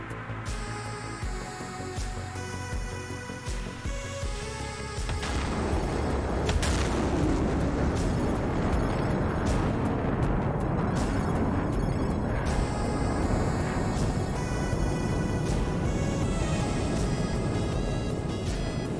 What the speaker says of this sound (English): First missiles coming off from Drigo and Falcon, and then I Love Crayons and Jonas respond with missiles of their own